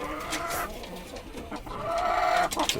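Hill breed chickens and roosters cluck nearby, repeated close clucks with a drawn-out call near the end, heard over a noisy farmyard background.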